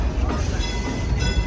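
The Silver Dollar City steam train rolls along its rails with a steady low rumble and faint rhythmic clatter, heard close from on board, with people talking nearby.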